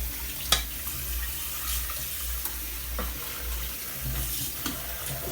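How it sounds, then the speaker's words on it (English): Cold tap water runs steadily into a kitchen sink while basmati rice is being drained, a continuous rushing splash with a few small clunks and knocks. "And then run the cold water."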